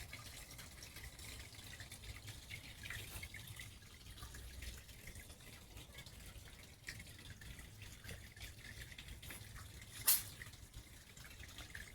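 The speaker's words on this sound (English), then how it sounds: "The beautiful waterfall." Water trickles and splashes steadily from a small decorative waterfall beside a fish pond, a soft continuous flow with one brief louder splash near the end.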